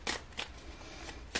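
Tarot cards shuffled by hand nearby: three quick papery riffles and swishes, separated by short quiet gaps, with no talking.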